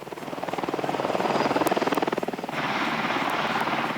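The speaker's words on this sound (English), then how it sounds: "Which puts the 24 Apache A-64A attack helicopters on center stage." Apache AH-64A attack helicopters fly overhead with a loud, steady rotor chop, a continuous pulsing thrum that holds strong throughout and shifts in tone partway through.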